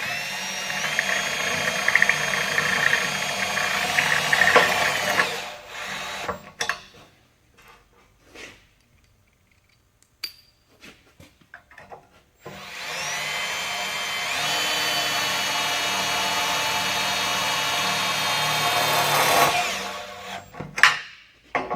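A power drill drives a Tek screw into a metal tube joint in two sustained, loud whirring bursts, each several seconds long, separated by a quieter pause with faint clicks and handling noises.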